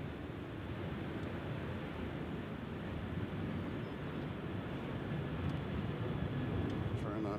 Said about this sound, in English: we'll get to see a little takeoff action as well